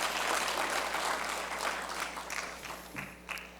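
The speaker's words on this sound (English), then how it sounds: "So let's give them a great round of applause to the jury members." Conference audience applause for jury members at a sustainable energy forum in Barbados, a dense, continuous wash of clapping from a large crowd that gradually thins out toward the end.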